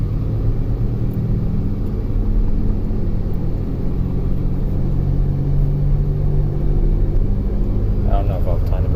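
Inside a moving 2009 Toyota Tundra 5.7L, a constant low droning rumble from a failing wheel bearing runs under road and engine noise, with a voice talking throughout.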